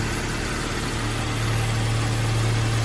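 A car engine idles steadily after a new serpentine belt and tensioner have been fitted, a continuous close hum with no squeal, running alone without talk.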